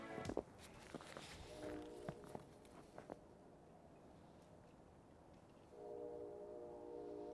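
A faint train rumbles in the distance with a soft horn-like drone near the end, mixed with light footsteps close by.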